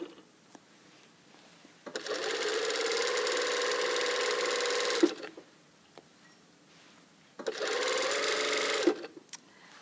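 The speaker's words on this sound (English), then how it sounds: "Back tack a few times. And then run the seam down." A sewing machine stitches a blazer lapel seam in two bursts of steady whirring, the first about three seconds long and the second shorter, with quiet pauses and small clicks between.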